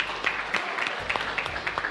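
Children and audience clapping at a Ramadan event for a young silat Cimande performer, a steady round of many hands with scattered louder individual claps, moderately close.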